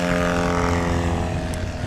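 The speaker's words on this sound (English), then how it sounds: "the Super Bee out there with Joe Dory, a great competition airplane" A Super Bee STOL competition airplane's propeller engine drones loud and steady, a continuous buzzing hum at an outdoor short takeoff and landing event.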